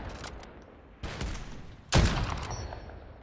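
Gunfire in the video game Call of Duty: Modern Warfare, two loud, sharp bursts of shots about a second apart, each followed by a rumbling echo that trails off, with a faint distant shot before them.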